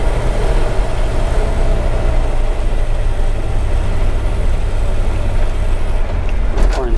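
A 1951 Ford F-1 pickup driving, its engine a loud, steady low rumble from inside the cab throughout, with a brief clunk near the end as the gears shift.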